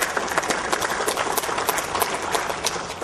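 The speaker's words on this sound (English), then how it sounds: "maybe a round of applause for them" Audience at a property summit conference claps together in a dense, steady round of applause, close and fairly loud, with individual claps audible throughout.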